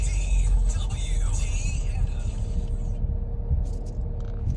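An Emzoom R Style car idles with its muffler valve opened, giving a steady low, throaty exhaust rumble close by, with a brief higher whine in the first few seconds before settling.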